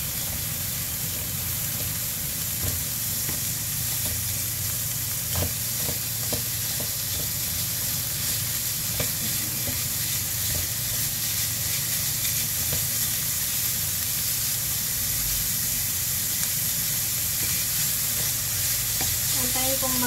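Mince beef browning in a frying pan for shepherd's pie, giving a steady, loud sizzle throughout with occasional stirring scrapes.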